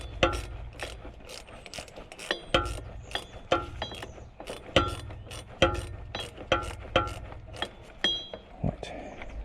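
A ratchet clicks rapidly in short repeated bursts while tightening propshaft bolts on a Range Rover L322, close and fairly quiet, with mechanical rattling between strokes.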